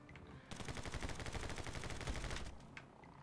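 Rapid Uzi fire in the action game My Friend Pedro, a dense loud burst of automatic shots lasting about two seconds, then stopping.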